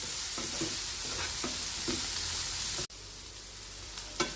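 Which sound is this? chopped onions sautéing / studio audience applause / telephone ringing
chopped onions sautéing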